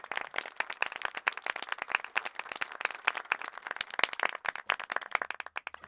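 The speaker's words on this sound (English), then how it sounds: "A round of applause, please, for this brave young man." Cartoon audience applause for a young boy picked from the crowd at a stage show, steady dense clapping with sharp individual claps throughout, fairly close and alone with no talk.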